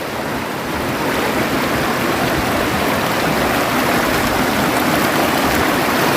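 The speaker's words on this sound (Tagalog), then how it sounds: "Ito ang Umanod River." Deep, clear river water flowing steadily over rock at the Umanod River, a broad continuous rushing wash heard close and loud throughout with no voices.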